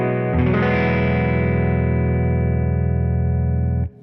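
An electric guitar played through its neck pickup rings out with one full chord, held with long sustain for about three and a half seconds before it is cut off, close and loud.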